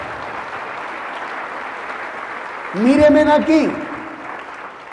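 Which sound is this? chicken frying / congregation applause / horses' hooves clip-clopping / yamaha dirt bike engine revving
congregation applause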